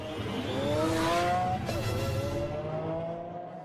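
A 2008 Lamborghini Aventador prototype on a test track, its engine note rising and then shifting pitch as it passes, loud and close, with a brief tyre-like rush in the middle.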